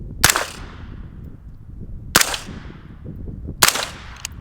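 Suppressed CAR-15 rifle shots hitting a steel target: three sharp, loud cracks spaced a second or two apart, each with a short ringing tail, followed by a faint extra tap, with no talk.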